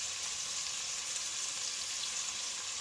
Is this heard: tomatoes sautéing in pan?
yes